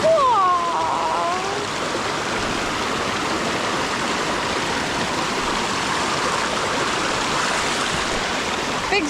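Skylight Brook in the Adirondack High Peaks flows and rushes steadily, a close, continuous wash of water on a mountain hiking trail. A brief whistle-like tone sounds at the very start.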